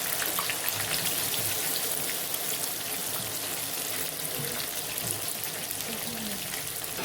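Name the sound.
soybeans frying in hot oil in a wok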